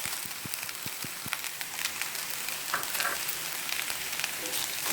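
Vegetable fried rice, Indian style, frying in a pan, a soft continuous sizzle with a few light taps of a utensil near the start, moderately quiet, no voices.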